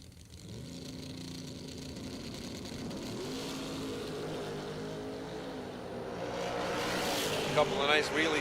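Drag racing cars launching side by side down the strip at a bracket race, engine roar building steadily and swelling louder toward the end, with a commentator's voice running over it.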